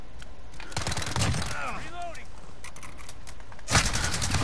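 Rapid bursts of Uzi submachine gun fire in a first-person shooter video game, crackling in quick clusters with a louder burst near the end, with someone talking over it.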